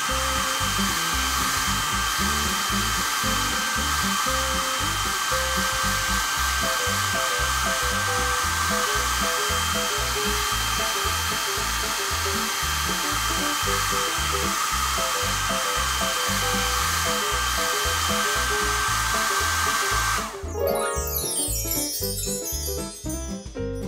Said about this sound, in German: Warum brauchen wir einen Föhn?